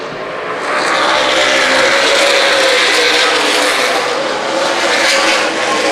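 Race cars roar around Dixie Motor Speedway in a Main Event Racing Series 100-lap feature, a loud, sustained engine drone that swells as the pack passes and holds steady for several seconds.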